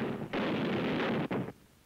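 A heavy stone slab crashes down in a 1940 Stone Age cartoon gag, a loud close burst of impact noise lasting about a second with a brief break before a final thud.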